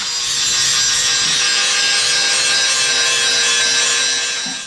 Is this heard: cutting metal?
yes